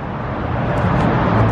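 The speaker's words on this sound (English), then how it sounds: "I apologize for the noise out here right by the highway." Highway traffic roars nearby as a continuous broadband rumble of passing vehicles, swelling slightly as one goes by, loud and steady with no speech.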